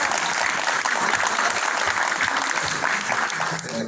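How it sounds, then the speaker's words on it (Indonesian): A church congregation claps steadily throughout, a dense wash of applause filling the room at moderate loudness, with a faint murmur of voices underneath. "Tepuk tangannya malu-malu"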